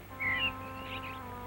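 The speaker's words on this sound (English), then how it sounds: "Oh, just listen to the birds, Tom." A couple of faint, thin bird chirps in the distance over a low steady hum.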